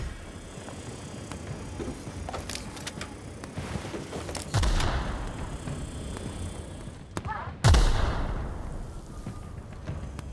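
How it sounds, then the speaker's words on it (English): Gunfire in a stealth video game, with two sharp, loud shots several seconds apart, each with a decaying tail, over quieter background game ambience and scattered clicks. "Stop shooting me with poison bullets."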